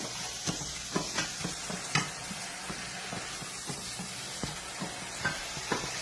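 Food frying on a home stove, a steady close sizzle broken by sharp clicks and scrapes of a utensil stirring the pan, with no voices.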